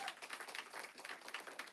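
A small audience claps at a community genealogy event, faint and somewhat distant, with irregular patters of hands for a couple of seconds.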